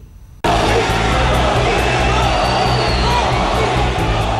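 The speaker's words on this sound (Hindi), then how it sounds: "पीएम मोदी की हर बात पर तालियों की गड़गड़ाहट होती थी" A huge crowd of about 18,000 at Madison Square Garden erupts for PM Modi, with a sudden roar of cheering, whooping and applause that stays loud and dense.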